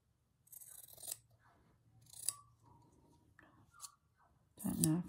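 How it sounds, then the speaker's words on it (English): Scissors cut small fabric pieces for slow stitching, making several crisp, close snips spaced about a second apart, with soft talking faintly underneath. "Let's have a play and cut some of these little pieces out."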